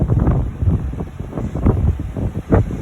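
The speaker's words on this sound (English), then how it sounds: "See the wind blowing the water off the waves." Strong hurricane wind roars across a cruise ship helipad at sea, buffeting the microphone in loud, gusting bursts over the distant wash of waves.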